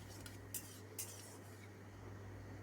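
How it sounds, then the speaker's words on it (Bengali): Cinnamon sticks, a bay leaf and whole cumin are stirred in hot oil in a pan for paneer masala, with faint scraping and a couple of light metal clinks over a low steady hum. "ভালো করে নেড়ে নেব।"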